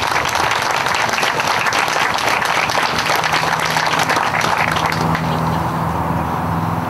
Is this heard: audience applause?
yes